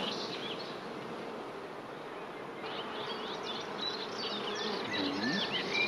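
Honeybees hum densely around an open hive frame holding open brood, a close, continuous buzz that swells slightly, with individual bees droning past.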